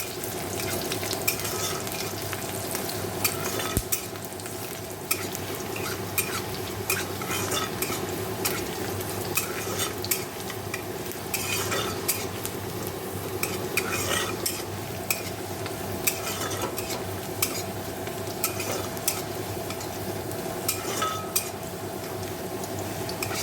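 Spices tempering in hot oil for dal, a continuous sizzle with frequent metallic scrapes and clinks of a spoon stirring in the pot, steady and close.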